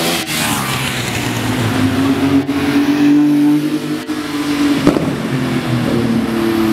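A Porsche 911 GT2 RS sports car engine runs loud and close at a car meet in Praça Espanha, holding a steady high rev with a rising and falling pitch.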